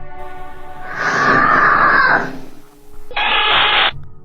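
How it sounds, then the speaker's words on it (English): A loud, piercing scream in home footage of a reported ghost encounter, coming in two harsh, strained bursts with a brief break between them, close and dominating, with no talk. "Then a loud scream pierces the air, sending the little girl running for mommy."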